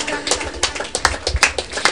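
A church congregation claps in rhythm as an offering of applause, a quick series of sharp close hand claps in a steady beat, with voices heard beneath.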